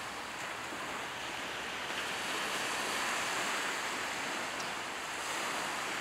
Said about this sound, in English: The sea's making more noise than the road is,